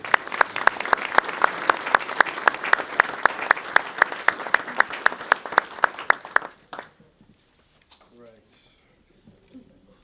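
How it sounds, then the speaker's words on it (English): Audience applause at a children's museum ribbon cutting in Peabody, Massachusetts, with rhythmic clapping for about six seconds that stops abruptly, followed by quiet room sound and faint speech. "we get a round of applause?"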